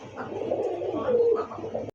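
A large Gola pigeon coos close by with soft repeated throaty rolls over a couple of seconds, with no talk.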